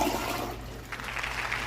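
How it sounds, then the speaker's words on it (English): Newly installed toilet being flushed, a loud rushing swirl of water that hisses and gurgles steadily throughout, close by and with no voices. "Let's give it a flush."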